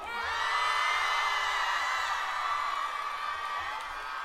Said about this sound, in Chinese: 掌声送给流星团双截棍